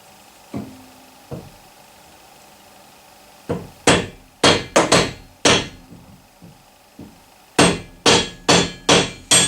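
A hammer strikes a bearing back into the housing of a Bosch Performance Line CX e-bike motor, with two light taps followed by rapid bursts of sharp, loud metallic blows in quick groups.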